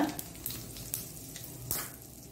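Mustard seeds spluttering in hot oil in a pan as asafoetida is added, a soft steady sizzle broken by scattered sharp pops, faint and close, with no talk.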